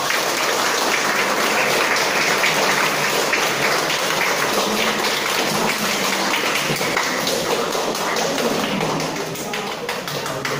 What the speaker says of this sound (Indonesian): Ustaz minta tepuk tangan yang meriah.